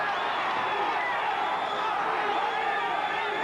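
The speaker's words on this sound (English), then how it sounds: "And the crowd coming alive." Boxing arena crowd at the Bobby Chacon vs Cornelius Boza Edwards rematch, a continuous roaring murmur of cheering spectators, steady and fairly distant, with a ringside commentator talking over it.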